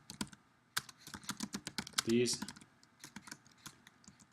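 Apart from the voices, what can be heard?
typing on a computer keyboard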